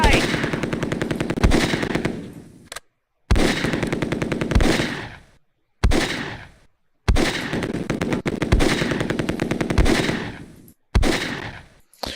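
Bursts of machine gun fire from the PC war game Close Combat, several loud rapid volleys separated by short silences, close and harsh.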